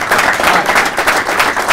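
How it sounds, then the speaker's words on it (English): Audience clapping at a baseball first pitch dinner, a dense, steady patter of many hands close and loud for the whole short stretch. "I'm going to ask you to clap your hands"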